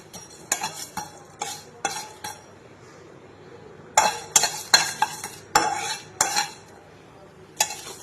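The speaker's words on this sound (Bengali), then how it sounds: "কড়াই দিয়ে দিয়েছি একটু সর্ষের তেল আর দিয়েছি দুটো শুকনো লঙ্কা আর একটু পরিমাণ মতো পাঁচ ফোড়ন দিয়ে ভালো করে নাড়াচাড়া করছি" A spatula stirs dried red chillies and five-spice seeds in mustard oil in a wok, making sharp, close scraping and clinking strokes in irregular bursts, with a quiet pause in the middle and a faint sizzle underneath.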